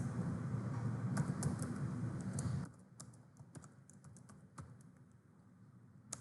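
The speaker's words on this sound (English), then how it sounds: "I'm typing here inside this bracket" Computer keyboard typing while coding a MERN food ordering app, with rapid close key clicks in uneven bursts; a steady low hum fills the first few seconds, then the clicks stand out more sparsely against a quieter background.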